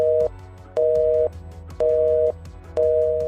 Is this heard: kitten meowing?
no